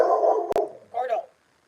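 A dog barks in a short burst at close range while someone talks over and around it in a loud, echoing room.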